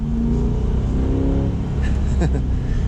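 A 2021 C8 Corvette's mid-engine 6.2 liter naturally aspirated V8 drones loud and steady from inside the car, its low rumble rising in pitch as it revs and accelerates, with a voice briefly over it.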